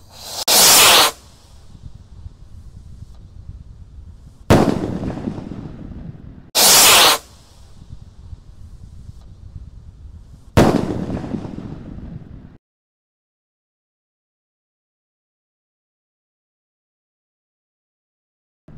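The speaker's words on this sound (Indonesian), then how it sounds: "Roket Mars siap meluncur." Mars rocket firework lit for a Ramadan evening fireworks session: loud hissing whooshes of launch bursts, several sharp blasts and crackling decays over about twelve seconds, then silence.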